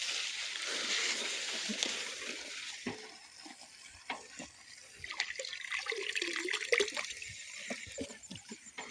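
Water running through a farm drip irrigation fertiliser line gurgles and trickles steadily in a hissing wash, with intermittent splashes and bubbling pops close by.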